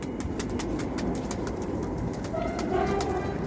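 Pigeons in a rooftop loft coo in low, soft murmurs against a dense, steady background hum. No one speaks.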